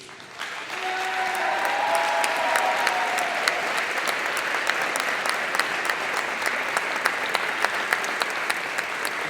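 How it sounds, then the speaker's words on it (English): Sustained applause from a school audience for standing seniors at an awards and cresting ceremony, a dense steady roar of many hands that holds loud throughout with a few sharper individual claps on top. "And now's when you clap for these two."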